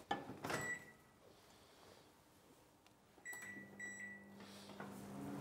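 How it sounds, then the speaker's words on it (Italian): A microwave oven in a kitchen cooking cheese for a marinara risotto, heard as a faint steady hum that starts after a few beeps and clicks, with a low drone holding through the second half. "Togliamo il cerchietto perché il metallo non fa bene al microonde."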